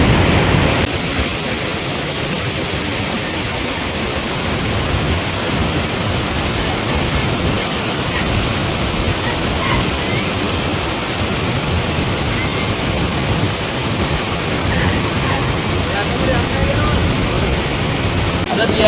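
A Sri Lankan waterfall with heavy water flow roars in a constant, loud broadband rush, and voices talk over it.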